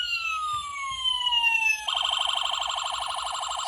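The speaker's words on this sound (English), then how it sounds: "Got 4-tone siren." A loud electronic four-tone siren from a toy Ford Crown Victoria California Highway Patrol police car sweeps downward in a long wail, then switches to a rapid warbling yelp that repeats steadily, thin and toylike.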